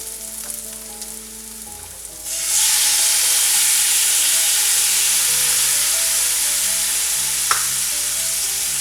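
Tomatoes go into a hot pan of lightly pinkened onions for bread poha. A sudden loud burst of sizzling hiss follows a quieter start, then holds steady with one brief clink, while music plays faintly underneath.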